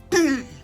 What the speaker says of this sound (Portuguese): Pigarreou nervoso.